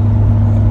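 C7 Corvette Premier Edition engine blipping itself during an automatic rev-matched downshift, a steady close engine drone with a low hum held through the whole short moment.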